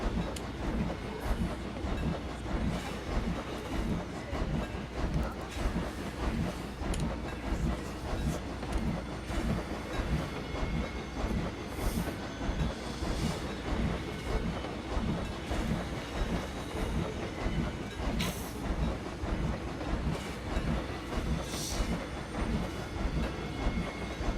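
A steady rhythmic clatter of a video game roller coaster train in Planet Coaster climbing the lift hill, continuous and fairly loud throughout with no voices, like a coaster car clanking slowly upward.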